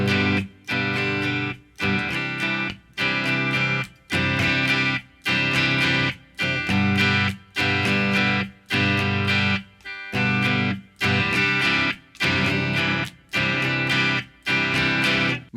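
Distorted electric guitar strumming a steady rhythm, with regular short silences from eighth rests between the loud chord bursts, about a dozen repeated hits, close and with no talking.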